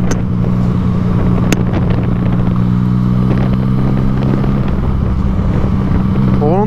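Yamaha MT-09 motorcycle engine idling loud and close, a steady throbbing hum running unbroken throughout with no other sounds over it.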